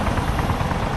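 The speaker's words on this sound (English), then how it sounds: "Chopper." A helicopter in the military video game Arma 2 gives off a steady, loud, close rotor-and-engine roar that fills the whole second without a break.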